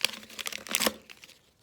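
A paper label being torn off a plastic water bottle gives a quick crinkling rip lasting about a second, close and fairly quiet, with no talking.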